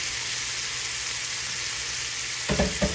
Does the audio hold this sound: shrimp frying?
yes